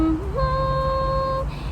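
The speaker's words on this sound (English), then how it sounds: "you could hum." A single voice hums a steady tone that steps up in pitch partway through, then holds before stopping, close and clear over a faint low hum, with no talking.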